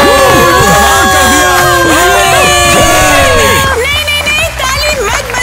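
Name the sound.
audience clapping and cheering in a school pageant vote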